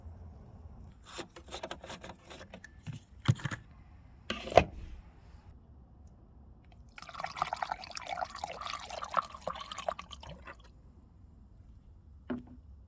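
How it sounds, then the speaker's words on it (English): Coolant being topped up in a 2009 Peugeot 207cc, with faint trickles and drips from a bottle, then a longer stretch of pouring liquid, near and quiet with no talk. "Coolant's a bit low. Let's top that up."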